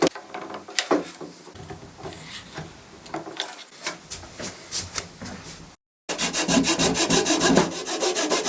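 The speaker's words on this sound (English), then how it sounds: "finish it off with some sanding" Rhythmic rasping strokes of sandpaper rubbing on wood, close up, a brief pause, then faster, denser scrubbing.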